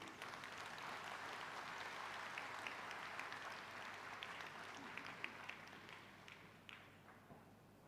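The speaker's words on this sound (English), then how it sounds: "Can we have a round of applause, please?" An audience at the Asian Financial Forum in Hong Kong applauds, a broad wash of clapping held at an even level that thins a little toward the end.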